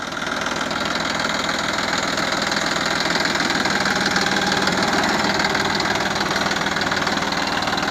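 A Massey Ferguson 9500 Smart tractor engine runs in first gear, C range, giving a loud, steady diesel chug with a knocking pulse that holds evenly for the whole stretch, with no talking.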